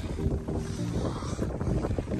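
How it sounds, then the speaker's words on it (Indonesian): Strong wind buffets the microphone while kayaking on rough, choppy water with whitecaps, a loud continuous low rumbling roar with gusty swells and faint water sounds underneath. "Angin kuat atas ni."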